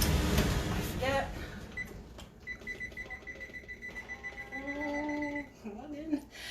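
A kitchen oven timer is set by hand with a short run of evenly spaced beeps at moderate level, alongside household clatter and a person talking nearby.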